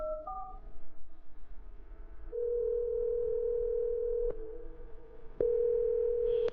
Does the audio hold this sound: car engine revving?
no